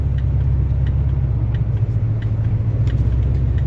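Heavy, constant low rumble of a 1972 Cadillac Eldorado with a 500 cubic inch engine cruising at around 55 mph, steady road and engine noise with faint ticks and no talking.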